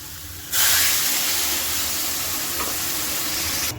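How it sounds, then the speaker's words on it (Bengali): Water poured into a hot pan of Bengali-style katla fish curry sets off a sudden, loud, close hiss and sizzle that holds steady for about three seconds, then cuts off. "এবার আমি একটু জল অ্যাড করে দিই"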